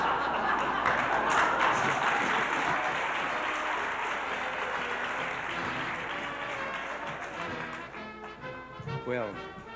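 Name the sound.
audience applause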